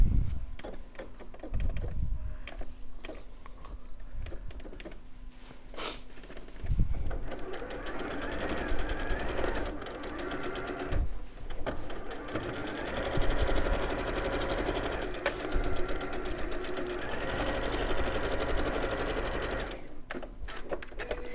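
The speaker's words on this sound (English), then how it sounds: "So I'm just top stitching along the folded edge here at the bottom and at the top there." A domestic sewing machine top-stitches along a folded fabric edge on a quilt, its motor whirring in several bursts with brief pauses between, close and loud, while a person talks briefly at times.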